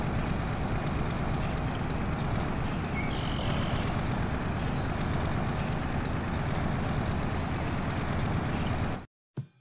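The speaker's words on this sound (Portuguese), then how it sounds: "o barulho da turbina desse avião, digo, caminhão" A loud, steady engine roar from a heavy truck in a video game drones on without a break, then cuts off abruptly near the end.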